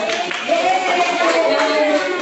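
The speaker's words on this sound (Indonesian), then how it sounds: "Beri tepuk tangan untuk kelompok 2." Brief burst of clapping from a classroom group applauding a team of students, dense and continuous for about two seconds, with faint voices mixed in.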